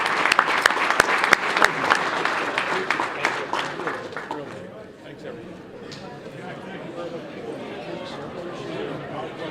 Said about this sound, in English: A nice round of applause for both of our candidates, Jack Hayes, Pat Ryan.